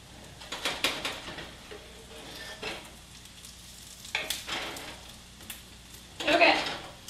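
Sweet potato and onion patties fry in a pan, a soft steady sizzle that swells into louder crackling bursts around the start, middle and end.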